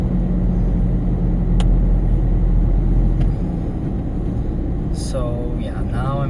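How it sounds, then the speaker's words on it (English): A car drives along the road with a steady low rumble of engine and tyre noise from inside the cabin, plus a brief whine near the end. "So yeah, now I'm finally driving back home"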